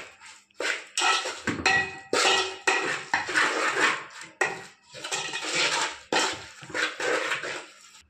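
Ingredients for a fish pulusu get mixed in a pot, giving repeated scraping, clattering strokes of a utensil against metal in a busy, uneven rhythm at close range.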